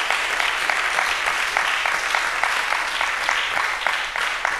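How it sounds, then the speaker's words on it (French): A church congregation applauds loudly and steadily in a dense wash of clapping, close and continuous for a few seconds without pause. "acclame la parole de Dieu."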